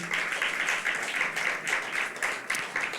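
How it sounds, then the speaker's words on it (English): Audience applause at a business pitch event for small enterprises, a steady wash of many people clapping in a hall, fairly even and sustained with a few louder swells. "please, one more time, applaud our online community."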